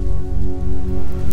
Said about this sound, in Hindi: बारिश बिल्कुल तो नहीं रुकी, लेकिन पहले की निस्बत कुछ कम हो गई